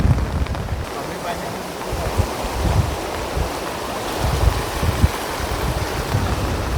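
Strong wind blows beside a swollen river in the Konkan during rain, buffeting the microphone in rough, uneven gusts over a constant rushing wash of water.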